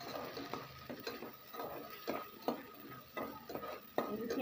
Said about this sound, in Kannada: ಮಸಾಲೆನ ಫ್ರೈ ಮಾಡ್ಕೊಳ್ಳೋಣ ನೀಟಾಗಿ.